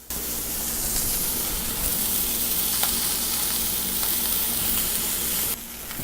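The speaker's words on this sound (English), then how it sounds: "We're going to go ahead and take it and flip it." A burger patty on a black iron griddle gives a loud, steady sizzle right after it is flipped. The hiss runs close and unbroken and drops slightly near the end.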